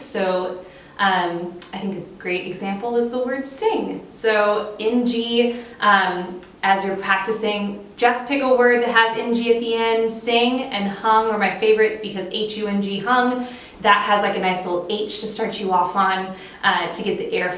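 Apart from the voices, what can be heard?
No everyday noise stands out behind the speech.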